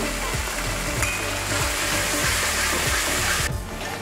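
Ginger, garlic and green chilli paste fries in a pan for prawn rezala, giving a steady, loud, dense sizzle with faint stirring scrapes throughout.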